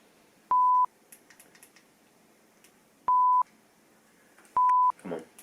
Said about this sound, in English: put my camera on the timer, and then whenever I can hear it going down